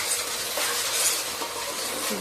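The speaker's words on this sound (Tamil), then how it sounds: "நல்லா வதங்கட்டும் எண்ணெய் பிரிஞ்சு வர்றதுக்கு." Masala of ginger-garlic paste, mint and coriander sautés in hot oil with a soft, steady sizzle and faint stirring scrapes, close by and fairly quiet.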